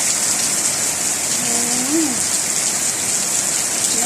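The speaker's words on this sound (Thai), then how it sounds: "ตกเยอะเลยนะคะ วันนี้ตกเยอะเลย" Heavy rain pours steadily, a dense continuous hiss throughout with no pauses; a faint rising whistle-like tone briefly surfaces midway.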